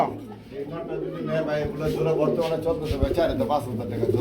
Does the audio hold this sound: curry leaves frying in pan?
no